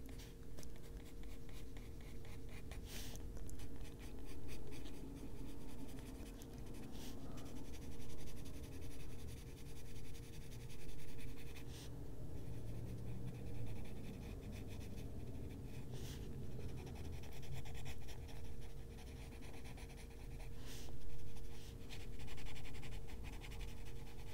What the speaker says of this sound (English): just bring in some shadow lines here and use this as my pencil